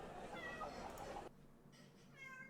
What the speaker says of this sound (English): So sorry, my cat is trying to get at something.